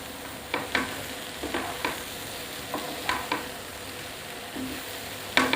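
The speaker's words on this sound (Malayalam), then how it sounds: "എന്നിട്ട് നമുക്ക് നന്നായിട്ടൊന്ന് ഇളക്കാം" Jackfruit thoran being stirred with ground coconut paste in a pan, a run of repeated scraping strokes at an irregular rhythm, close and fairly clear, with no talking.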